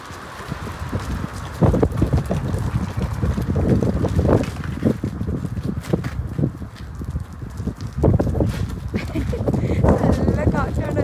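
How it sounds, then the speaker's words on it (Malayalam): Strong wind blows outdoors, roaring and buffeting the microphone in irregular gusts, while people talk nearby throughout. "നല്ല കാറ്റുണ്ട് കേട്ടോ"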